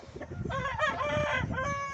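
An Indian breed rooster crows once, a loud, close, drawn-out call lasting nearly two seconds.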